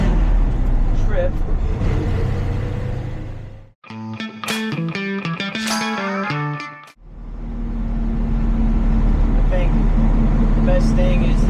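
A 1978 Ford F-700 truck is driven on a road, its low, steady engine rumble filling the cab at the start and end. A short tonal musical passage interrupts the middle, and a voice seems to speak over parts of it.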